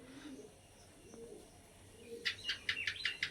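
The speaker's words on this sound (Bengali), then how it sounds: "আর এটা হচ্ছে 3 নম্বর পায়রা" A Patna Lotan pigeon with feathered feet coos softly in low, rolling notes, followed by a brisk series of sharper chirps and wing-like flutters, close and quiet.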